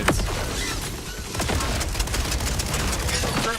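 Singularity grenades going off in the video game Borderlands 4, a dense loud run of booming blasts and crackling gunfire that continues without a break for a few seconds.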